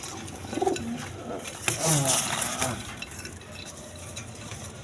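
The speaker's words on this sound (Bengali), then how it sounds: "একদম ছটপটা কবুতর" Pakistani Teri pigeons coo in low, soft throaty calls up close while wings flutter and shuffle restlessly, with faint background voices and noise.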